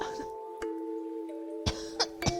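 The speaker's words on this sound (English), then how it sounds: "Mom is coughing a lot again." Mother character in the game Universe for Sale coughs in a few short, sharp bursts near the start and end, over a steady humming tone and quiet background.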